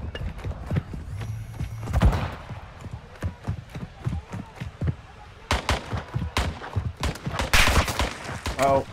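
Gunfire crackles in Call of Duty Warzone DMZ: sharp shots and bursts scattered throughout, some near and loud, others farther off, with clattering rapid volleys near the end and brief voices in between.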